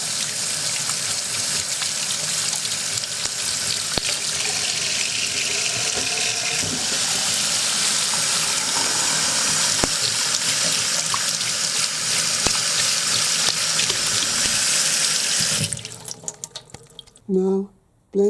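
Sandalwood nuts rinsed under a running kitchen tap, a steady close rush of water splashing for about fifteen seconds before cutting off, followed by a few faint drips and small handling sounds.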